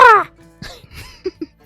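A human voice imitates a swift bird's call with one short, loud, screechy squawk, followed by a few soft mouth clicks and breaths.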